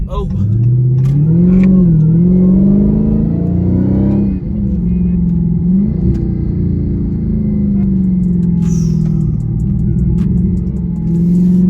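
A 2021 Dodge Charger Hellcat Redeye's supercharged engine revs loudly while driving, the pitch climbing and dropping through several downshifts, with a voice talking over the steady rumble.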